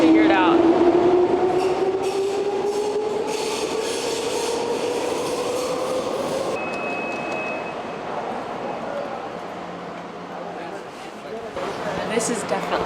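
A train rolls along with a steady rumble and a rising, squealing wheel whine, rail noise continuing at close range throughout the ride.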